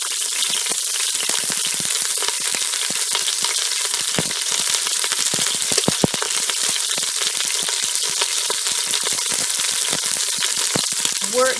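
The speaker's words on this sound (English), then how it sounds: "We're going to just let it sizzle for a couple minutes." Steady, crackling sizzle of pork frying in a hot pan, continuous and close throughout, with occasional small pops.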